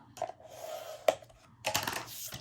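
Paper for a boho baby album being scored 4 1/4 inches from the top: soft sliding scrapes and a sharp click, then a busier burst of crisp scratching near the end, close and quiet with no talk.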